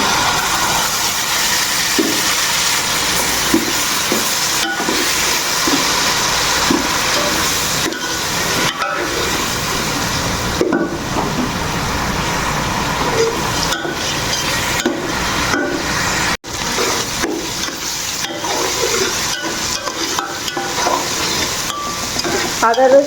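Ginger and garlic fry together with already-fried onions, producing a dense, steady sizzle broken by frequent scraping and clattering stirring strokes, close and loud, with one brief dip partway through.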